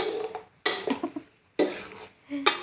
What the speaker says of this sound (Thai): ค่อยๆผัด เดี๋ยวเพิ่มไฟนิดนึง